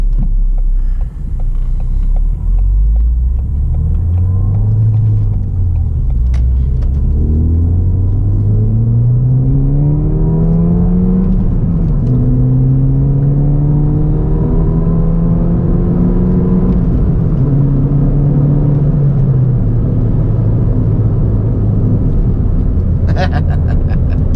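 A Ford Fiesta ST engine on night backroads rumbles and revs from inside the cabin, its pitch climbing and dropping as gears change, loud and steady throughout.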